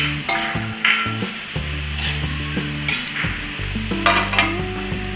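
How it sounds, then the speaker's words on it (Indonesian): Javanese noodles being stirred in a frying pan, oil sizzling steadily while a utensil scrapes and knocks against the metal in repeated strokes, close and fairly loud, with no talk. "Kita aduk-aduk sampai rata"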